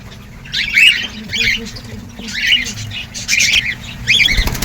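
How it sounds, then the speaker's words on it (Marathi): Several cockatiels, including a white one, chirp and squawk in repeated bursts close by in a cage, with brief wing flutters and faint rustling between calls; no talking. "यात पण व्हाईट कोकटेल आहे."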